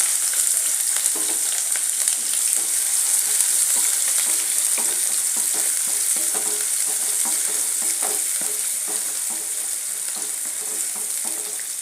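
Onions sizzle steadily in a hot pan while a utensil scrapes and stirs in irregular strokes, close and fairly loud, with no talking.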